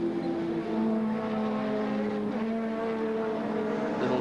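Touring race car from the 1992 Australian Touring Car Championship round at Wanneroo, engine droning steadily with shifting pitch as it brakes briefly and then accelerates hard out of a sweeping corner, loud and continuous with no talk.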